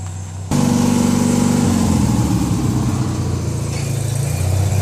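Engine of a Craftsman DYT4000 riding lawn tractor with a 25 hp Kohler V-twin, starting abruptly and then running steadily close by with a loud, rough, throbbing idle that shifts in pitch partway through.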